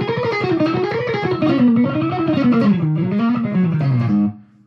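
An electric guitar played through effects with distortion rips through a fast alternate-picked run, a dense stream of notes rising and falling in pitch before cutting off near the end.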